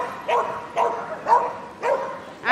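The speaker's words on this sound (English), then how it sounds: "she's going to come and find her person in the hide and then she's going to stay with them and bark" A search and rescue dog barks repeatedly at a found person in a hide, five sharp, evenly spaced barks close to the microphone in a search and rescue demonstration.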